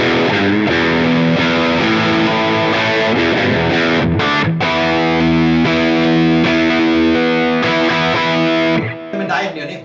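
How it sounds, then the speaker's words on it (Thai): A Grass Roots G-SG-47L electric guitar plays overdriven rhythm chords, loud and continuous with thick sustained distortion and brief chord changes, fading out near the end. "ตัวนี้เล่นริทึมเสียงไดร์อย่างเดียว"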